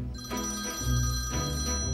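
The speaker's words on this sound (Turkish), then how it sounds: "Telefonun çalıyor." A telephone rings in repeated electronic trills, close and fairly loud, two ring bursts in steady rhythm with no talking.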